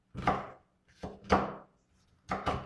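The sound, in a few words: chopping green bell pepper into thin strips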